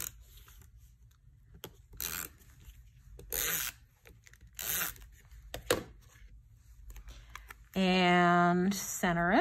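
Several short, crisp rips of tape being torn for mixed media card making sound close and separate against quiet, and a voice speaks near the end.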